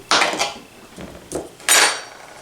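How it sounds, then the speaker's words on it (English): Knife cutting squares of butter into chunks on a board, with three or four sharp, close clacks and scrapes in quick succession, fairly loud and with no talking. "I'm going to cut those into chunks"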